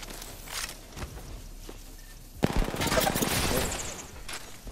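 Rapid automatic gunfire from the battle-royale shooter Apex Legends, a quieter first half giving way to a loud, dense burst of rattling shots from about the midpoint, with no talking over it.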